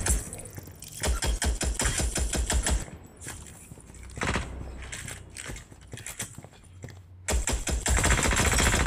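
Rapid automatic gunfire in the mobile battle royale game Indus, loud close bursts of fast shots broken by short pauses, with one long sustained volley near the end.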